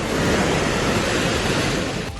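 The Beas river, swollen by water released from the Pong dam, surges in a loud, continuous roar of rushing water that stays steady throughout with no voices.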